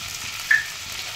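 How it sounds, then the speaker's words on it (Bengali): Chopped tomato frying with potato, onion and ginger-garlic paste for ghugni, giving a steady close sizzling hiss with one brief bright clink in the middle. "এবারে এটা দিয়ে একটুখানি আমি জাস্ট কষিয়ে নেব। আমি টমেটো কুচিটা দিয়ে দিলাম,"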